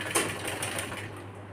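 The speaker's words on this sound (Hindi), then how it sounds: "इस तरह से पूरे पे सिलाई लगाएंगे।" A sewing machine runs steadily, stitching seams on a girl's frock suit, with a close, continuous mechanical whir and rapid needle patter for a brief moment, no voices.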